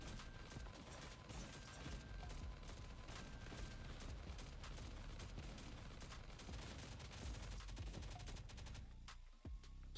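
Gatling gun firing in the Last Day on Earth: Survival video game, a dense, continuous roar of rapid gunfire that holds steady for nearly ten seconds before cutting off abruptly.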